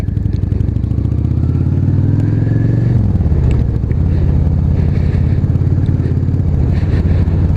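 A Yamaha Dragstar 650 cruiser motorcycle rides at steady speed, its engine giving a continuous loud, throbbing low rumble, with a gear change around the middle as the pitch dips and settles back into a steady drone.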